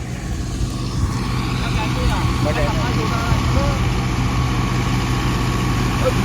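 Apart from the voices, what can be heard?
tractor engine running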